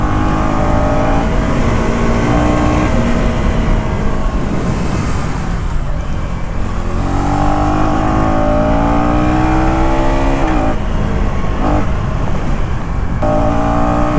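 A 2024 KTM Duke 250 motorcycle with a bidirectional quickshifter, its engine loud and close throughout, revving hard with pitch climbing and dropping through gear changes made without the clutch.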